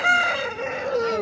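A rooster crows loudly and close at the Jama Masjid bird market in Delhi, one long drawn-out call that falls in pitch, with no talk.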